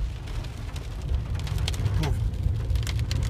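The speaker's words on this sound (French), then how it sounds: "Vous voyez la puissance de l'orage que nous venons subir." Heavy storm rain pelts a car stuck on a motorway, a dense, steady drumming of drops on the roof and glass with a low rumble beneath.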